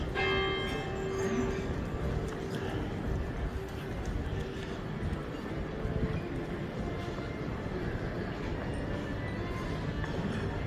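Church bells ring steadily in Munich among a dense wash of outdoor city noise, their tones overlapping as if two sets of bells chime at once.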